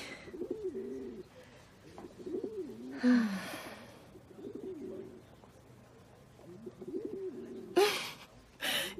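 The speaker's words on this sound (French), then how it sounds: "Qu'est-ce qu'elles font du bruit, ces tourterelles?" Turtle doves coo in repeated soft, low phrases, close by, broken by a few brief bursts of noise.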